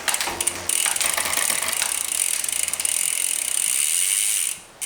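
A bicycle chain running over rear derailleur cogs during pedaling on a bike under adjustment, a close, continuous fast ticking and whirring that carries steadily for several seconds before slowing and stopping.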